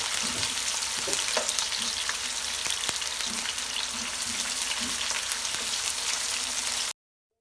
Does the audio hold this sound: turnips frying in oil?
yes